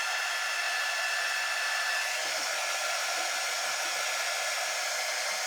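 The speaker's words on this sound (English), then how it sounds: "It's kind of like a wimpy hair dryer." Quick-dry heat tool blowing a steady, weak airflow like a low-powered hair dryer, a constant close hiss with no talking.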